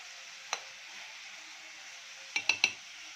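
Onion being stirred in a pan over a low sizzle: a single scrape of the utensil, then a quick cluster of three clinks and scrapes close by, with no talk.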